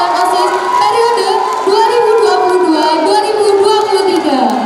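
School audience at a student council election debate cheers for the candidates, a dense crowd of young voices shouting and whooping loudly with no clear applause standing out.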